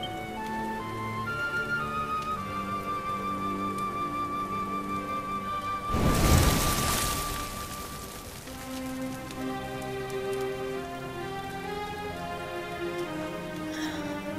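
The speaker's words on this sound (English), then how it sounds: "Looks like the rain's dying down." Rain falls steadily in the video game Dragon Quest XI, a soft continuous hiss under gentle game music that surges louder for a couple of seconds midway before settling back.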